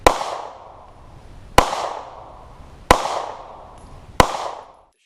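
Glock 19 Gen 3 pistol firing four sharp, evenly spaced shots about a second and a half apart. Each loud crack rings out briefly before the next, with no voices.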